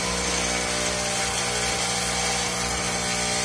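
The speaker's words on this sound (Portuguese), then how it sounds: "O barulho é o transformador." The aging transformer of an old TIG welding machine with a high-frequency igniter gives off a loud, steady electrical hum with a harsh buzzing edge, continuous and close throughout.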